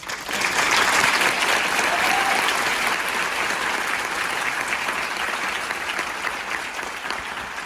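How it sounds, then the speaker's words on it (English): Warm, sustained applause from a lecture-hall audience welcoming a speaker for a lecture on the risks and rewards of AI, many hands clapping evenly with no talk, swelling early then holding steady. "let's give a warm round of applause for Geoff Hinton"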